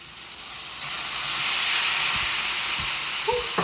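A loud, steady sizzle hisses as wine is poured onto bacon in a hot frying pan, swelling and holding, with a couple of faint knocks near the end.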